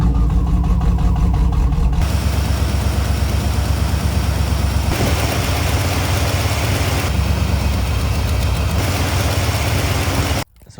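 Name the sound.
small block Chevy car engine starting and idling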